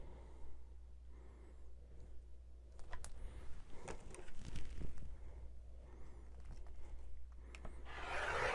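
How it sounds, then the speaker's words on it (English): Scissors cut through folded Christmas tablecloth fabric with soft crunching and rubbing strokes, quiet and close, over a low steady hum. "we're going to cut a swath of this fabric at 13 inches"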